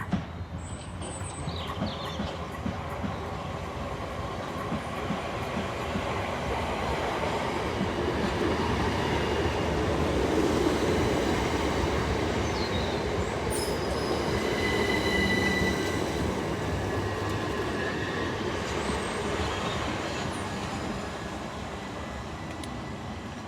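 A Southeastern train, the Dover Priory service, arriving at Tonbridge station on the South Eastern Main Line. The rumble is steady and close for over twenty seconds, with the clatter of wheels and high squeals and screeches layered on top.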